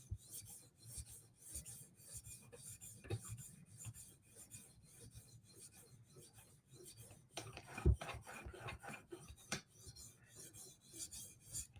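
Knife blade drawn in forward strokes across a sharpening stone to reduce the burr, a quiet, steady rhythm of soft rasping scrapes repeating close by, with no talking.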